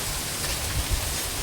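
Heavy rain pours down in a steady, dense hiss that fills the whole stretch, with a few slightly louder low thumps from drops striking nearby surfaces.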